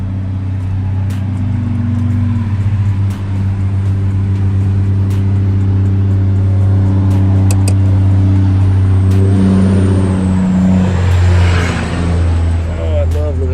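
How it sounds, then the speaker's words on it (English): Beside a highway, heavy traffic makes a loud, continuous low engine rumble with a steady hum, and vehicles swell and whoosh past now and then. "Oh, I love living on the highway. So many wonderful sounds."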